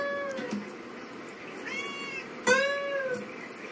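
A cat meows several times, with drawn-out, tonal cries and a sharper, louder one near the end, close and clear over quiet background noise.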